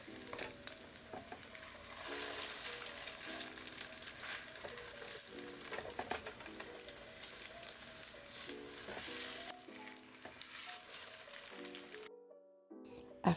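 Salisbury steak patties browning in a pan give off a steady, fairly loud sizzle, with music playing over it throughout. The sizzle cuts out briefly near the end.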